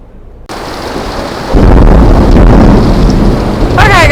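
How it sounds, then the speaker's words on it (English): Storm at a campground with wind gusting into the microphone, heavy rain pouring down and deep rolling thunder growing louder after a quiet start, close and intense. "This is like the kind of storm we're getting."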